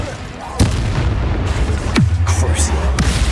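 Incendio fire spells cast in the video game Hogwarts Legacy, heard as a few sharp whooshing bursts with a low booming rumble, over steady game music and ambience.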